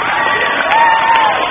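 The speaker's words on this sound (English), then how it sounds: "give her a big round of applause" Crowd cheering and whooping for a women's national wushu champion at a martial arts school demonstration show, a brief, loud burst of voices with a rising shout over scattered clapping.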